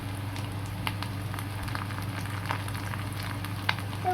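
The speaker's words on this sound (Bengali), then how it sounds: "আদা তো বন্ধুরা এবার আমরা আদাটা দিয়ে দিচ্ছি।" Ginger goes into onions already frying in a pan for chicken kosha, with a constant, dense sizzle and crackle and a few faint ticks of stirring throughout.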